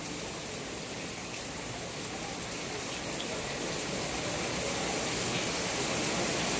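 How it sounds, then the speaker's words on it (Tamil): Steady, heavy rain hisses continuously, a dense wash of sound that grows slightly louder over the whole stretch. "பரவாயில்ல, மழை நல்லது தான்."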